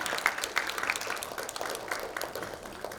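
Applause from a conference workshop audience closing the first session, a steady wash of many hands clapping at moderate volume throughout.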